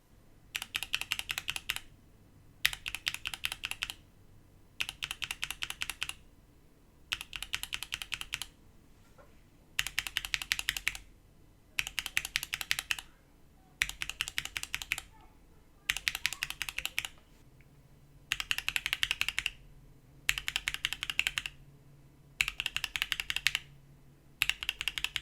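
Clacky Gateron Box Ink V2 keyboard switches, lubed and filmed, typed in steady bursts of rapid keystrokes separated by short pauses, close and crisp with no talking.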